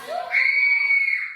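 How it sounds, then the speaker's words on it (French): A child lets out a single loud, high-pitched scream lasting over a second, close and piercing, with no other sounds around it. "Crie le plus fort que tu peux."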